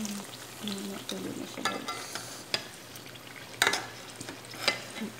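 Eggplant fries in a pan with a steady sizzle and occasional stirring scrapes, a few sharper clinks of utensil on pan, while a voice speaks briefly over it.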